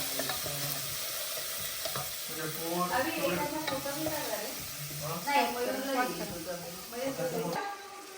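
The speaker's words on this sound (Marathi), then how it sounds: "सो बगरचा भात टाकत आहेत फोडणीमध्ये" Oil sizzles steadily as rice is stirred into hot tempering oil in a pan, with scraping and clinking of a spoon, and a voice talking over the cooking.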